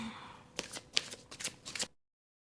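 Tarot cards shuffled by hand in a series of quick riffling bursts, about five distinct flurries of crisp papery flutter close to the mic, ending abruptly in silence.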